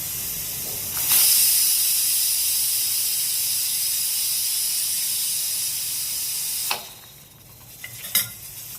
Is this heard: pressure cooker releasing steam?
yes